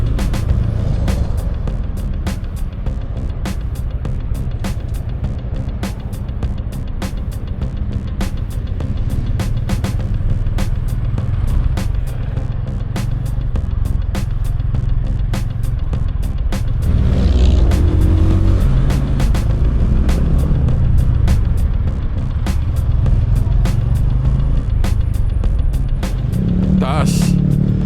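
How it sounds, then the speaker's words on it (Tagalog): Steady engine drone and passing vehicles surround a Bristol Cub Pro motorcycle crawling through heavy road traffic before rain, a continuous loud rumble with a burst of nearby revving partway through, while a rider talks over it. "Grabe naman ang traffic ngayon."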